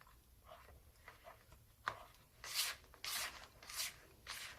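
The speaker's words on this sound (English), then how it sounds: "now I'm going to do a little hand mix," Cheesecake batter mixed by hand in a bowl, with soft, faint scraping strokes along the bowl sides, a few louder rasping sweeps near the end.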